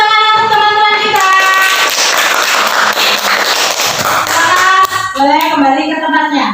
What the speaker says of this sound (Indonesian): Beri tepuk tangan untuk teman-teman kita.